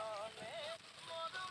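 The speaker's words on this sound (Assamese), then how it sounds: "বৰষুণ দিছে" Rain falls steadily outside a house in a tea garden, a constant soft hiss with thin whistling or chirping tones drifting over it.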